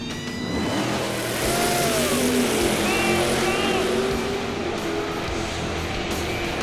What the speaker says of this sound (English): That Chevelle does sound good.